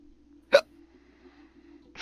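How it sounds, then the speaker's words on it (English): A single sharp hiccup pops out over a low steady hum, followed by a fainter second hiccup-like burst near the end, heard during video game play. "Hiccups."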